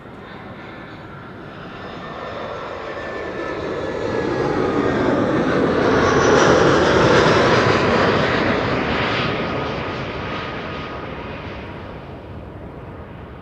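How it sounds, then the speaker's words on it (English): An Iberia Express airliner arriving at Amsterdam Schiphol from Madrid makes a broad engine roar that swells steadily, peaks overhead near the middle and then fades away, with no voices. "Iberia Express arriving from Madrid."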